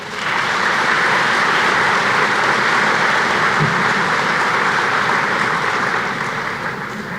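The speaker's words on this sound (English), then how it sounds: "If we give them a round of applause, please." Sustained, dense applause from a large crowd at a high school commencement, honoring school board members; a steady, loud wash of clapping throughout.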